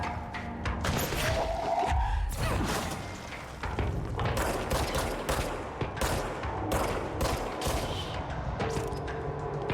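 Sniper gunfire and heavy combat in the Control video game: repeated loud sharp shots and booming impacts in bursts, with rumbling blasts and brief pauses between volleys.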